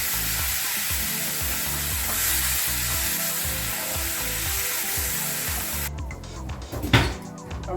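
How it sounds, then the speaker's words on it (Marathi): Chopped green tomato and capsicum fry in a hot pan, giving a steady loud sizzling hiss that cuts off near the end, followed by a short clatter of the pan or spoon. "तर त्याच्यात आपण आता टोमॅटो चिरलेलं घालतो आणि शिमला मिरची घालतो."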